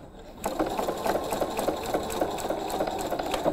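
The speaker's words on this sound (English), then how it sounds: "I bring the needle down, I bring my machine down, I do my little back stitch" A sewing machine stitches a short back stitch, starting after a brief quiet moment and then running in a close, steady, rapid chatter with a low motor hum beneath it.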